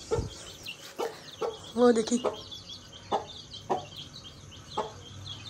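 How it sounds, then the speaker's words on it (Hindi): A hen clucks repeatedly in short, spaced bursts while sitting with her chicks gathered close, their faint peeps mixed in; a person says a word once. "अभी हमने मुर्गी को उठाया था पर कुछ नहीं कह रही चूजों को, फिर बैठ गई है।"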